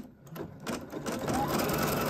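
An embroidery sewing machine stitches a felt-backed coaster in the hoop, giving a fast, steady mechanical whirring and needle chatter that builds and holds close and clear throughout.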